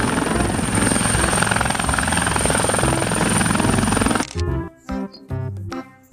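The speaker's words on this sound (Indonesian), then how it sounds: "ada helikopter." A helicopter's rotor throbs loudly and continuously for about four seconds at close range, then cuts off abruptly and is followed by short, choppy bursts of sound.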